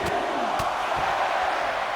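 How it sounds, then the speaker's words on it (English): Wrestling arena crowd in Hershey from the WWE 2K24 video game, a steady wash of cheering and roaring that fills the whole two seconds, with a couple of brief louder shouts rising out of it. "Listen to this crowd in Hershey."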